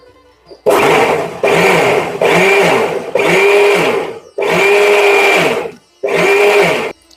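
Electric mixer beating plum cake batter with refined oil: loud, close motor whirring in six sustained bursts of roughly a second each, separated by brief silences, with no talk.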